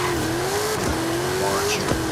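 A tuned car in Forza Horizon 5 holds a steady high engine drone near 6,000 RPM, with a brief dip and recovery, loud and continuous, with faint tire noise underneath.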